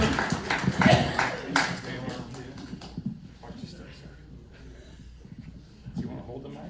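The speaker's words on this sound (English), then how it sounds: "Give him a round of applause." A short burst of clapping from a small crowd at a history lecture at the start, which then thins out to scattered claps and quiet room sound.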